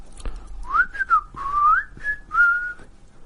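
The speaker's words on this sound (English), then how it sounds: "I can whistle better than that" A person whistles a short, wavering tune of several sliding notes, close and clear, with brief pauses between phrases and no talk.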